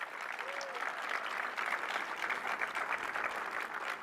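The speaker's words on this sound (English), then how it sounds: "Let's give a big round of applause for all of our port workers here who do the great work each and every day." Crowd applause at an outdoor port event honoring port workers during a presidential speech, steady dense clapping throughout, fairly distant with a brief tonal whine near the start.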